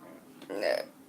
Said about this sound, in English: I burped, sorry.